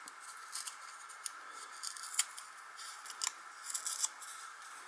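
Scissors trim paper for a spring-themed art journal, a run of close, quiet snips and crisp cutting strokes in irregular rhythm, with no voices.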